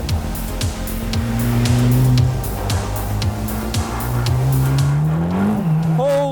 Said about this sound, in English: It just lights up the rear tires every time you step on the throttle.